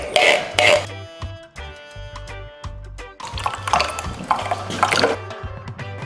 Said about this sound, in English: what I like to do is pour it in a big bowl, stir it, and then measure out my coconut milk